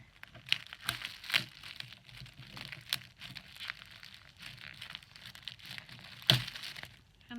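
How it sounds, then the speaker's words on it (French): Adhesive tape being pulled and torn off an unboxed package holding tinted Aida cloth, with crinkly tearing bursts and a few sharp rips spread across the stretch, fairly faint and close. "Je me bagarre avec les scotch."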